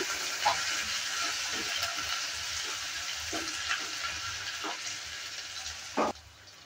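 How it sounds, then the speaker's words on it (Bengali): A medium onion, chopped, sizzles in a pan for a lentil dal with bathua greens, a steady hiss with a spoon scraping and clinking every second or so as it is stirred, one louder knock near the end. "পেঁয়াজটাকে দেওয়ার পরও আবারও ভালো করে নেড়েচেড়ে নিচ্ছি।"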